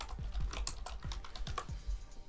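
Computer keyboard keys are pressed in quick, uneven succession, about ten close, crisp clicks with no talking.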